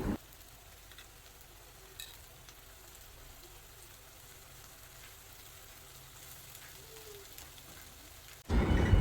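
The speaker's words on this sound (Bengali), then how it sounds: "এ কড়াইতে মাছ ভুনা বসিয়ে দিবে তো এখানে পরিমাণ মতন পেঁয়াজ দিয়ে নিচ্ছে" Onions fry in a wok for hilsa fish bhuna, a faint, steady sizzle heard alone that ends in a brief louder clatter.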